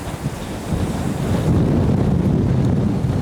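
Wind buffets a fishing boat on the ocean off Ocean City, Maryland, during a tautog outing: a steady, close, rumbling roar of gusts against the microphone with surf wash beneath, continuous and without talk.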